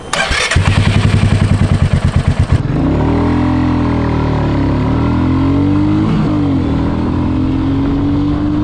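Royal Enfield Meteor 350 single-cylinder motorcycle engine, first a loud rapid thumping idle-like pulse, then a continuous loud drone as the bike rides along, pitch gently rising and falling with the throttle.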